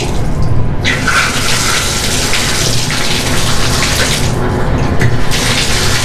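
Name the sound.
Moen shower faucet running water after cartridge replacement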